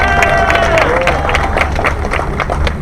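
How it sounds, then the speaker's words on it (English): A crowd claps and cheers for the mayor at a Ward 8 Good Food Markets event in DC, a short dense burst of applause mixed with babbling voices. "Give her another round of applause"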